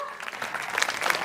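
A crowd at a cultural festival gives a brief burst of steady, dense applause just before a Punjabi dance performance.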